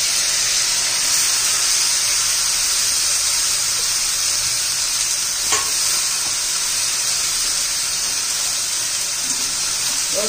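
Finely chopped cabbage fries in a pan with a loud, dense, continuous sizzle and hiss close by, steady throughout with one brief clatter in the middle.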